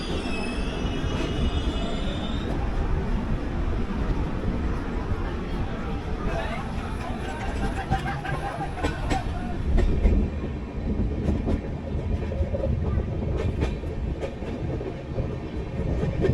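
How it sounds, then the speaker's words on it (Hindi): The Doon Express, a passenger train running Howrah to Yog Nagari Rishikesh, rolls through a station without stopping, its wheels clattering and squealing in a steady rumble while someone talks over it. "नंबर 2 से स्किप कर रही है दून एक्सप्रेस जो हावड़ा टू योगी ऋषिकेश नगरी जाती है"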